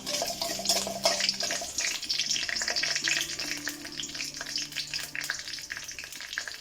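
Dried red chillies with fenugreek and mustard seeds frying in hot oil for a lemon pickle, giving a steady close sizzle and crackle with light stirring clatter throughout, no voices.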